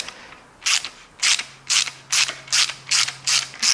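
A ratchet unscrews seized parts on a BMW 525 TDS, eight evenly spaced bursts of close, loud clicking in a steady back-and-forth rhythm.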